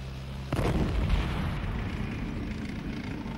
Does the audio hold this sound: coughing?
no